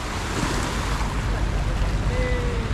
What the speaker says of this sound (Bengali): ভালোই ঢেউ